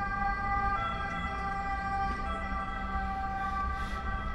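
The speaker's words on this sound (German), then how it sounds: "das sind italienische Sirenen von Krankenwagen" A steady two-tone Italian ambulance siren wails continuously at moderate distance over low road rumble near a hospital.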